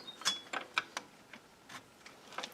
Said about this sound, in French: avec une petite clé de 10, on peut dévisser ça et faire bouger la gaine normalement